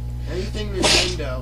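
One sharp, fairly loud sneeze bursts out in the middle of a casual conversation, and voices talk before and after it.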